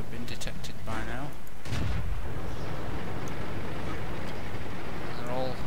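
Artillery shells landing and booming in World of Tanks, with heavy blasts and rumbling impacts early on, followed by a lingering low battlefield roar and a faint sweeping whine near the end.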